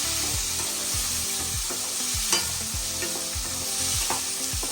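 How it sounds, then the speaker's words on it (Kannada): Mixed vegetables with peas stirred in a hot pan, a steady sizzle of frying running throughout while a spoon scrapes and knocks against the pan in a regular rhythm, close and clear with no talking. "ತರಕಾರಿ ಹಾಕಿ ಚೆನ್ನಾಗಿ ಮಿಕ್ಸ್ ಮಾಡ್ಕೋಬೇಕು"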